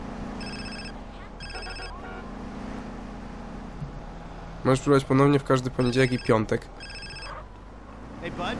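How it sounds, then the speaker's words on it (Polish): A telephone rings in short repeated electronic trills in the game GTA San Andreas, with a voice speaking briefly between the rings over a low engine-like hum. "Odbierzmy telefon."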